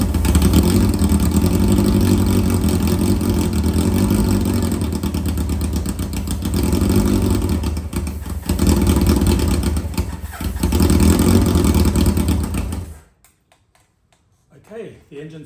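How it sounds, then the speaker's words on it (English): A Busa engine fitted in a car catches on starter fluid and runs with a loud, steady, throbbing drone for about thirteen seconds, dipping briefly twice, then cuts out abruptly into near silence with faint faraway noises. "Okay, the engine starts"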